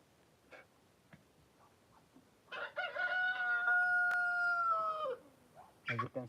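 After a few faint clicks and knocks, a nearby rooster lets out one long, loud crow, followed by a couple of short sharp noises.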